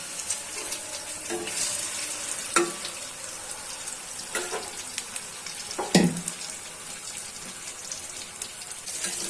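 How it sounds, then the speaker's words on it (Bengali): Rohu fish pieces coated in turmeric and chili fry in hot oil with a steady crackling sizzle, punctuated by a few louder splatters and utensil knocks. "হলুদ মরিচ মাখিয়ে গরম তেলে মাছগুলো ভেজে নিচ্ছি"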